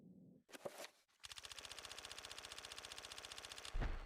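Rapid machine gun fire in the GameCube horror game Eternal Darkness rattles out in one sustained burst of fast, even shots lasting over two seconds, loud and close, after a couple of short game sounds.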